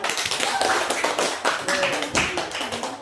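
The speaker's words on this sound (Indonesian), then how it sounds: "Tepuk tangan untuk kita semua." A classroom of schoolchildren claps their hands together in a short, uneven burst of clapping with some overlapping voices, close by and moderately loud.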